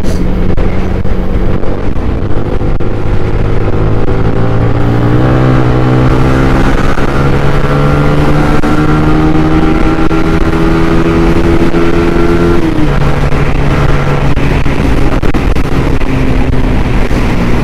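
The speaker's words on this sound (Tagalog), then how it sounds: "Medyo malakas yung hangin, sumasalampak sa atin no?" Heavy wind buffeting on the microphone while riding a Yamaha Sniper 155 motorcycle, a loud constant roar under the engine, whose pitch climbs in long rising sweeps as the bike accelerates through the gears.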